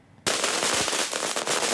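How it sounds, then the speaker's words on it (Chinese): A long string of firecrackers set off outside a lottery shop in Keelung, Taiwan, to celebrate a jackpot win, bursting suddenly into dense, loud, continuous crackling pops. "鞭炮声响彻云霄"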